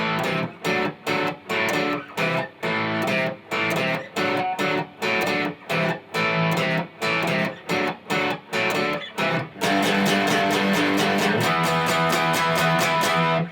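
Distorted electric guitar chugs a palm-muted power-chord verse in tight rhythmic bursts, then opens into sustained ringing chords, loud and close with no voice.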